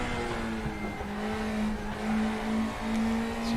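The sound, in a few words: race car braking hard, RaceRoom video game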